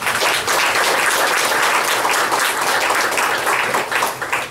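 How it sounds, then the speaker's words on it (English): A crowd at a grand opening event breaks into a big round of applause, loud and close, with dense continuous clapping that stays strong throughout before starting to thin out at the very end. "So give him a big round of applause."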